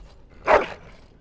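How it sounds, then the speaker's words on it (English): A dog in a fantasy role-playing game gives one short, single bark, brief and moderately loud, standing alone against a quiet background. "That is a wonderful dog"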